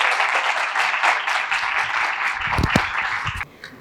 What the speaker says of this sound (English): please give a round of applause to our amazing guest speaker.